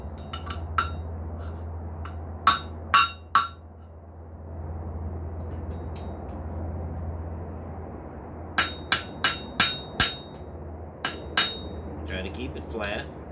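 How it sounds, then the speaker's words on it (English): A metal belt buckle being forged with a hammer over an anvil horn: sharp ringing blows in scattered groups of two to five, fairly close, over a low steady hum with no talking. "Now, work over the horn of the anvil or any object that you can use to perform the same function."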